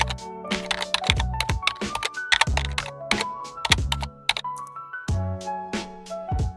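Rapid typing on a computer keyboard, clusters of sharp clicks and heavier key thunks in an uneven rhythm, close and clear with no talking.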